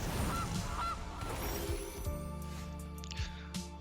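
A goose honking in the MTG Arena card game, a few short nasal honks early on over busy game effects, followed by a sustained droning tone and scattered clicks, with no talk.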